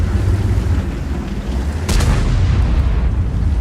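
A tank gun in World of Tanks fires once as a single sharp, loud boom that cuts through a dense, steady rumble of engine and battle noise.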